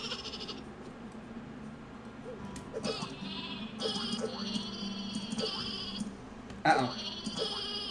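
Sheep bleat repeatedly in a run of wavering calls, some overlapping, heard fairly close amid light background noise and a brief knock near the end.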